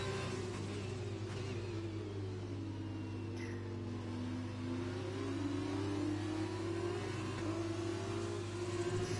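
Formula 2 race car engine during a race at the Hungary round, a steady loud revving drone with rising pitch sweeps and a deep constant rumble underneath, continuous throughout with no talk.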